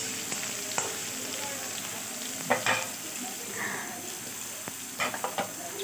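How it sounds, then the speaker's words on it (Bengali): Green peas and green chillies frying in oil under a lid in a pan, a continuous close sizzle with scattered sharp pops and spatters, no talking. "তাতে কড়াইশুঁটি, কাঁচা লঙ্কাগুলো দিয়ে দিলাম আর ঢাকা দিয়ে দিলাম"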